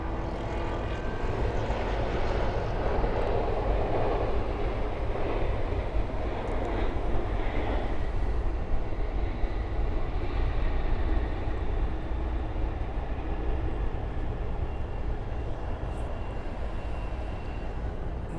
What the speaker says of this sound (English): we have currently an Atlas 747-800 from Anchorage approaching